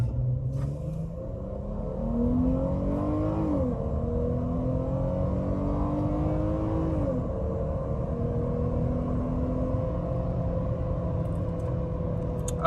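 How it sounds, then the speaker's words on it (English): A base-model Dodge Challenger accelerates hard from 0 to 60 in sport mode, its engine note climbing and dropping through several gear changes, heard as a steady muffled drone from inside the cabin. "So we're about to do a 0 to 60 right now."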